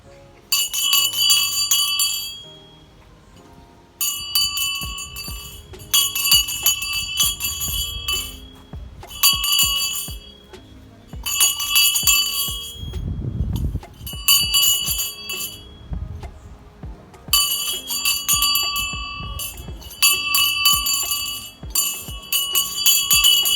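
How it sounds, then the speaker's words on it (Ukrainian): An electric school bell rings loudly in long repeated bursts with short pauses between them, a bright metallic clatter over faint background noise. "Дзвоник, прозвени!"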